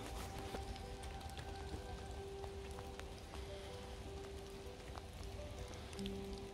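Steady rain falling on water during a wet, chilly countryside hike, a faint continuous patter with scattered drop ticks and a few quiet tonal hums in the background.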